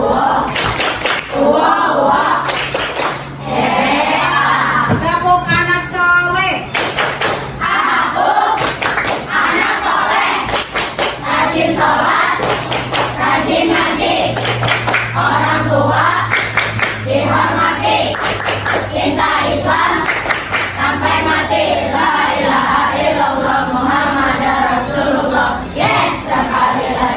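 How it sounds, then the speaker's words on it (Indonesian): Fifth-grade pupils in an Islamic studies classroom perform the 'tepuk anak soleh' routine, rhythmic group clapping in patterned bursts mixed with chanted voices, loud and sustained for nearly half a minute. "Tepuk anak soleh."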